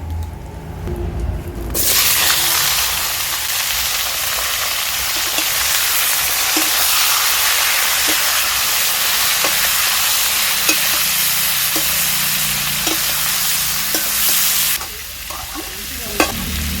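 Boiled jackfruit with whole garam masala, cumin, salt and turmeric fries loudly in a pan, a steady broad sizzle punctuated by regular stirring scrapes, then it cuts away near the end.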